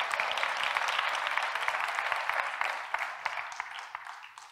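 A congregation at a Hindi-language Bible study session claps together while praising Jesus, a steady bright patter of many hands that gradually thins and softens toward the end.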